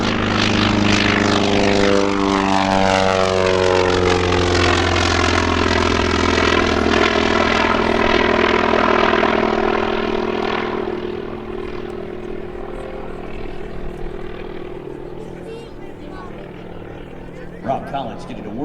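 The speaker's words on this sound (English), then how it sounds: "Let's listen in to the sound of the engine and the mighty Grumman FM-2 Wildcat" A Grumman FM-2 Wildcat takes off at the 2014 Rhode Island airshow at Quonset, its propeller engine roaring loudly with a pitch that sweeps downward as it passes, then fading into a steadier, more distant drone.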